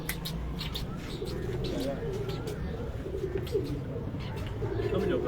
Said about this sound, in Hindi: ये कबूतर 7 साल से उड़ रहा है।